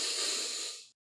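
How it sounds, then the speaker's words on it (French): One long, deep breath is audibly drawn during a breathing demonstration, a close, airy hiss lasting nearly a second before fading into silence, followed by a brief sound at the very end. "Écoutez, une respiration profonde"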